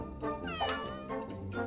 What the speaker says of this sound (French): Là, par exemple, c'est un chat.